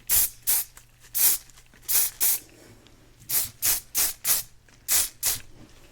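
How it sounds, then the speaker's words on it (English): Pump hair spray mists onto a section of hair in short, sharp hissing bursts, about a dozen close puffs in quick uneven pairs and runs with brief quiet gaps between. "I'm just going to take the first section here and we're just going to spray this really well"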